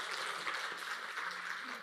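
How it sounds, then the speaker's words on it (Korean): A church congregation gives a brief round of applause for the choir during a Sunday morning service, a soft, steady wash of clapping heard at a distance. "한번 격려와 축복의 박수 한번 해주십시오."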